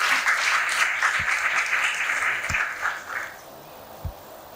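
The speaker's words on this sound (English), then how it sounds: "A round of applause for him as well," Audience applauding at a panel event on Namibia's energy transition, a steady wash of many hands clapping that thins out and fades near the end, with a few low thumps underneath.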